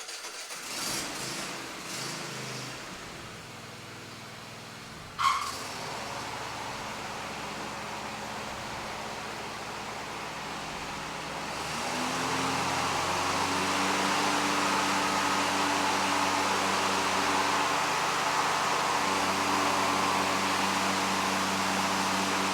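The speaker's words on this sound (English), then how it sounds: "let's go ahead and let's start the mower up" A lawn mower fitted with Oregon Gator blades starts up and settles into a steady, loud engine drone with a sharp click partway in, getting louder and rougher in its second half.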